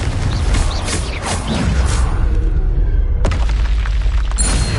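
In the Hogwarts Legacy video game, a Confringo spell sets off explosions, with loud booming bursts over a dense, rumbling battle mix and a sharp blast near the end.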